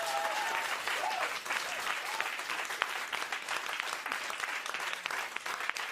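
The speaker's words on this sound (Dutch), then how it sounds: "Mag ik even een denderend applaus?" An audience bursts into sustained applause at a live show, dense rapid clapping filling the room at a moderate distance.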